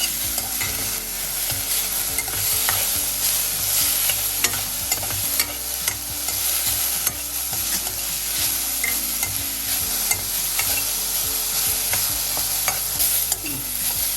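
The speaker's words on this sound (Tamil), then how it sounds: "இன்னொரு 5 நிமிஷம் வதக்குங்க." Coriander leaves sautéed in a pan for kothamalli thokku, with a dense unbroken sizzle and constant quick scraping and stirring throughout, close and steady, with nobody speaking.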